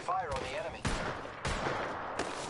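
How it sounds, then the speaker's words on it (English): Gunfire in a shooter video game, several loud bursts of rapid shots close by, with brief voice-like sounds early on and dense battle noise filling the gaps. "Opening fire on the enemy."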